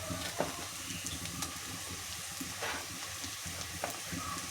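Chicken pieces frying in a masala base in a pan for a home-style chicken curry, a steady close sizzle with scattered scraping stirs and no talk.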